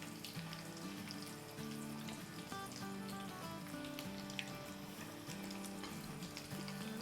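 Cornstarch-coated chickpeas fry in hot oil with a continuous, fairly faint crackling sizzle, and soft tonal sounds run underneath.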